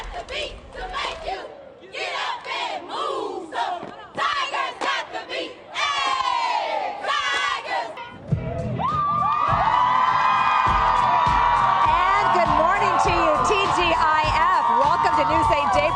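High school crowd at a Lincoln High School celebration, scattered shouts and whoops building into a loud sustained cheer with screaming voices, close and continuous to the end.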